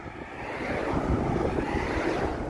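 Steady wind buffets the microphone with a low, continuous rushing roar that builds slightly and holds throughout, outdoors just outside the town of Astorga, Spain, on the Camino Francés.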